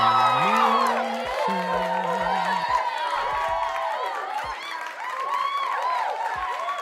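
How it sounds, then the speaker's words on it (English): Audience at a Steelers fan talk show reacts with whoops, shouts and cheering voices mixed with scattered clapping, lively and fairly close, tapering gradually. "Round of applause."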